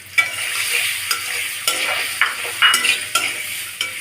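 Peas are stir-fried with ground spices in a pan for a spicy cabbage pitha, with sharp periodic scrapes of a spoon stirring through a continuous close sizzle, about every half second.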